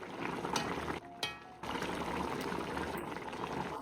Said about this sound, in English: Your zirvak should be boiling very vigorously.